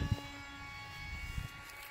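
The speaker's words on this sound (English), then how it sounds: "Look at the plane and just watch it over the top." A scratch-built RC F4D Douglas Skyray model jet flies outdoors, its faint, steady engine whine drifting at a distance, with a couple of brief louder bumps early on and near the middle.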